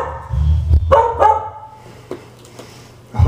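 A dog gives a few short barks and yips close by at the start, followed by quieter intermittent sounds, with no talking.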